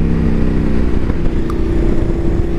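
A Ducati motorcycle engine idles and revs steadily up close, a continuous loud rumble with a deep throaty pulse throughout.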